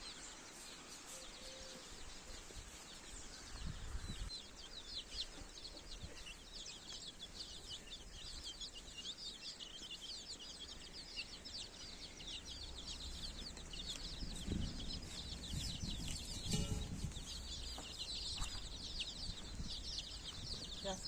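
Chickens cluck and murmur steadily at a distance amid outdoor ambience, with other birds chirping in the background.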